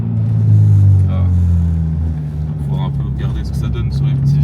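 A Honda Civic EP3 with a K20 engine revs hard in a low gear as VTEC engages, a loud, steady engine drone filling the cabin while someone talks over it.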